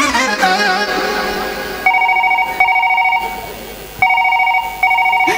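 A telephone ringback tone repeats in steady paired bursts after a number is dialed, loud and close, following a brief stretch of music and voices at a Chhattisgarhi comedy stage show.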